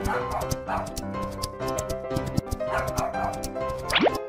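A dog barks in a quick run of yips and bow-wows, close and lively, with a short rising whine near the end.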